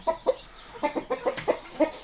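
An Indian breed rooster in a farm coop lets out a rapid series of about eight short, close clucks and calls, fairly loud and uneven in rhythm, with no talking.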